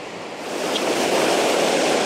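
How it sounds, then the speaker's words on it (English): A waterfall cascades down tiers in a garden-like creek setting in Alaska, a broad steady rushing roar of falling water that swells slightly and holds close and loud, with no voices. "beautiful waterfall cascading down"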